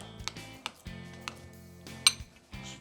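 Cream cheese, shredded cheese and green chilies being mixed in a bowl, with a few sharp clinks of utensil against the bowl over a low steady hum.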